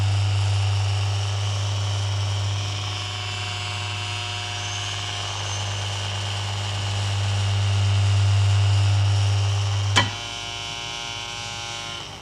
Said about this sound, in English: I'm going to put a little air screw on it, and when I switch this on,